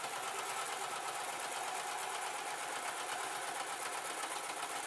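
A sewing machine stitches the last seam of a rice-filled cloth juggling bean bag, giving a steady, fast mechanical whir that runs unbroken and close, with no voices.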